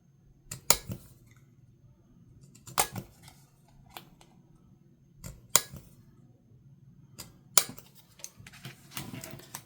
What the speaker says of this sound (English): We're going to cut up some of our tickets. Let's cut the corners off.